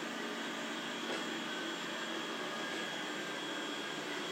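Steady, quiet whir of a Dreame L10s Ultra robot vacuum mop scrubbing over a dried chocolate stain in a floor joint, a constant motor drone with no voices.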